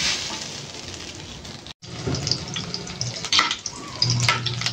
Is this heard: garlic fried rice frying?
yes